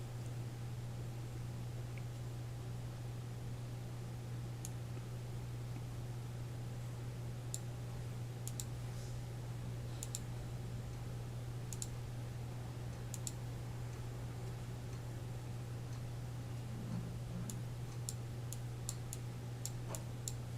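Keyboard keys and mouse buttons click sparsely while image effects are applied in graphics software, sharp isolated taps scattered over a steady electrical hum and faint background noise, no voice.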